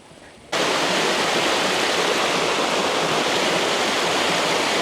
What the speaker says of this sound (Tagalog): We found the falls. So nice. So clear.